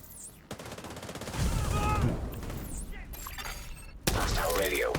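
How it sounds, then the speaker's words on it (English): Gunfire in The Division video game, bursts of automatic weapon fire and sharp shots with shattering impacts, loud and close, mixed with game sound effects and occasional voices. "I hear gunfire."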